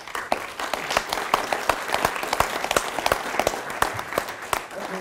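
Audience applause at a third-party candidates' debate, a steady spread of many hands clapping at moderate distance, continuous for several seconds with no talk over it.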